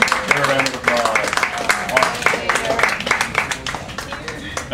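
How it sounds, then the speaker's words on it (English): Modest applause from a small group at a workshop awards session, uneven scattered claps mixed with voices talking over them. "Erman, give a round of applause."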